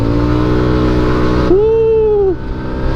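A motorcycle engine revs steadily and loud up close, with a brief rising-and-falling tonal whine in the middle before the engine note settles back down.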